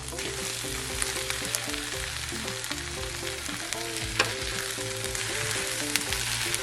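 Ground lamb fries in a pan with a steady close sizzle and crackle, and occasional stirring scrapes come and go under a low background hum.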